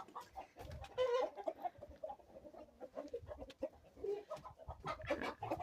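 Several hens and turkeys cluck and murmur nearby in an uneven, chattering stream of short calls, fairly quiet and close.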